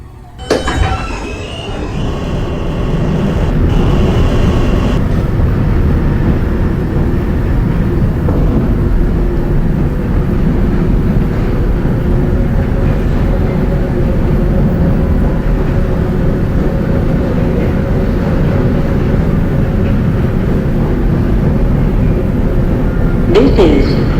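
An R160 subway train rides the J line toward Broad Street, with a loud, continuous rumble of wheels on rail and a faint high squeal at the start and near the end.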